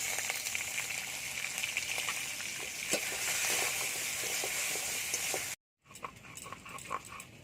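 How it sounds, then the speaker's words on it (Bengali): Potato and eggplant pieces fry in oil in a pan with a steady hiss and crackle, interrupted by a brief silent gap before the sizzling resumes, now with some stirring clatter. "আলু বেগুনটা ভালো করে ভাজা হয়ে গেছে"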